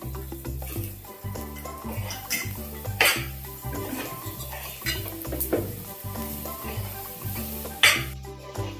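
Rice cooked with jaggery sautéing and sizzling in a pan for a Narali Bhat sweet coconut rice dish, with steady stirring scrapes and occasional spoon clinks against the pan, close and continuous with no talk.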